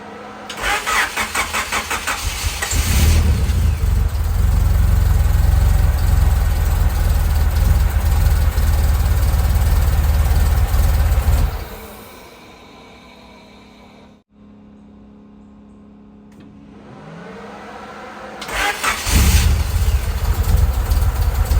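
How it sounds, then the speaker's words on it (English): A Honda Accord CB7 engine cranks and roars loudly for several seconds, cuts out into near silence, then cranks again and catches toward the end. "I'm gonna crank this car anyway."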